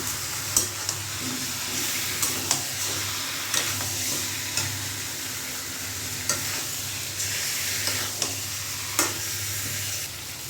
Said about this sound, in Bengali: ভেজে নিয়ে আবার মুরগির মাংসটা দিয়ে দিল চলেন ঝটপট মুরগির মাংসটা রান্না করে নিই